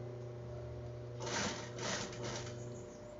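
A domestic sewing machine stitching fabric for a bikini top, running in two short bursts over a steady low motor hum, fairly close and with no talk.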